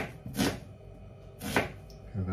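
An onion being chopped on a board, two solid knife strikes about a second apart and a third starting at the end, with a voice speaking between the cuts.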